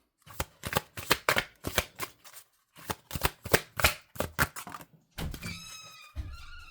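Oracle cards shuffled for a tarot reading make rapid, crisp riffling bursts in quick succession, then a pause and another run of shuffles, close and clear, ending with a brief chirpy squeak.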